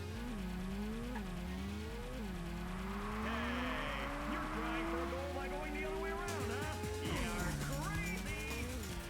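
A race car in the Ridge Racer video game on PlayStation revs through rising and falling gear shifts with tire squeals and impact noises, while a voice talks over the engine throughout.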